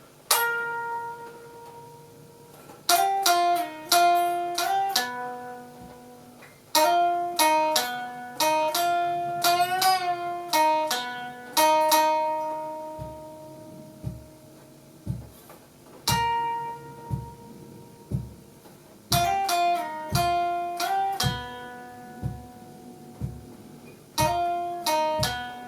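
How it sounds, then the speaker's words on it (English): Plucked, bell-like notes repeat a chord progression for the main theme of a song, each phrase ringing and decaying. Soft low pulses enter partway through. "The strings definitely play, and it sounds like this."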